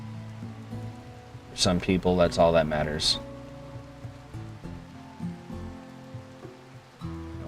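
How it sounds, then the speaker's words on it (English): Steady soft rain falls in Rimworld as a faint continuous hiss beneath background music, with someone talking briefly over it. "Hopefully this rain will let up and then he won't be soaking wet."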